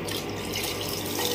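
Water pouring steadily into a gram-flour kadhi batter in a home kitchen, a continuous close splashing trickle with no talk.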